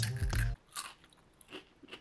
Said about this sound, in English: They're super, super crunchy.